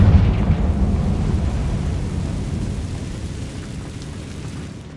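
A Confringo fire spell explodes in Hogwarts Legacy with a heavy, deep boom. The low rumble rolls on and slowly fades over several seconds, with no talking over it.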